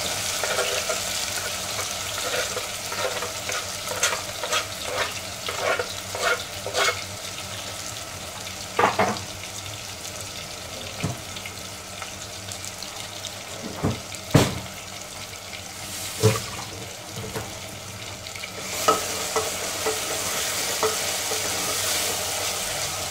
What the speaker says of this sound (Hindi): प्याज को फ्राई कर लेंगे पिंक होने तक।